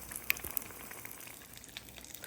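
Faint, steady sizzling of onion rings frying in oil, with soft crackles and pops scattered throughout.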